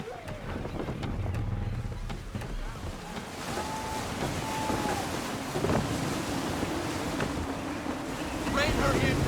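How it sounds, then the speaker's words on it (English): Gusty wind at sea in Assassin's Creed 3 rushes and buffets steadily with waves and creaking sailing-ship noise, rising in strength toward the end, with a voice briefly heard early on. "Gusty winds can be difficult to manage."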